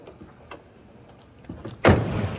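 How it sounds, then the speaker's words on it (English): A heavy car door on a Plymouth Roadrunner muscle car with a 512 stroker engine and shaved door handles shuts with one solid, close thud, after faint clicks and handling noises. "Doors close nicely."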